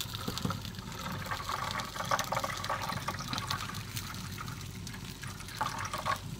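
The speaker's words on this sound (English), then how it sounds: "Let's add just a little bit more water." Water pours steadily into a pan on a 36-inch Lang offset smoker cooking Italian beef, a continuous close splashing gush that fills the clip without speech.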